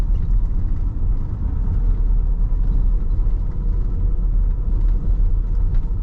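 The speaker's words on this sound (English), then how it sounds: "I don't like the sound of a 4-cylinder." A 2005 Nissan Navara D40 pickup with a four-cylinder engine runs steadily, giving a loud, continuous low rumble with no pauses or voices.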